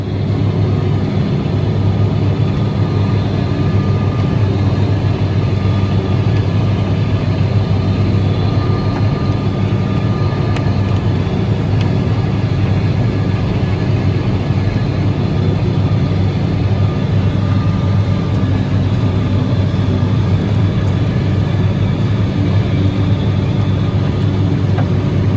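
A Snowblast 8600A snow blower truck engine runs with a steady, loud, close diesel-like drone that holds unbroken throughout, with no talking.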